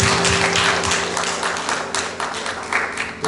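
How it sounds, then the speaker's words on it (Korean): A church worship congregation breaks into loud, sustained applause, many hands clapping in a thick, continuous wash, with a steady musical hum lingering underneath. "주님께 영광의 박수 올리겠습니다"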